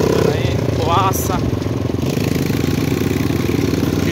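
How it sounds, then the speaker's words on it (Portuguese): A mini trail motorbike fitted with a Honda Biz 100cc engine putters along dirt paths on a rural property, its mid-pitched engine rumbling steadily up close while people talk over it. "De moto de trilha."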